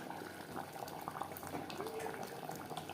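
Water poured into a pot of mutton cooking for biryani, spice-rinsing water hissing and bubbling on the heat, a faint, continuous sizzle and gurgle with small splashes.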